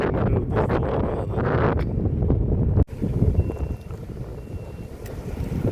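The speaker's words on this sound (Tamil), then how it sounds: "காற்று ரொம்ப நல்ல அடிக்கி" Strong wind gusts outdoors at a groundwater survey site, roaring and buffeting the microphone. A sharp break comes midway, then a lighter, steadier rush follows.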